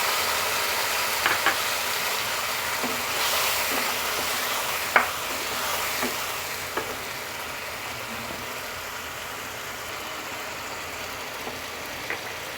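Onion with a paste of green chili, onion and garlic frying and being stirred in a pan for a bamboo shoot and chicken curry, a steady soft sizzle with a few sharp spoon scrapes and clicks, no voices.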